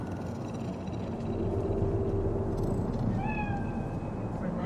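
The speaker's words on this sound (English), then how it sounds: "Do you see it? The cat." A cat in a Night City video game gives a drawn-out meow partway through, heard close over a low rumbling city background.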